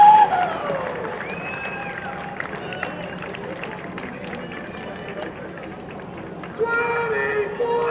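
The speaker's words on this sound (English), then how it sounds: "Let's send them out with a big round of applause." Crowd applause and cheering in a high school gym on basketball senior night, a steady broad wash of clapping and hubbub with a louder swell near the end, with echoing gym noise and some talk under it.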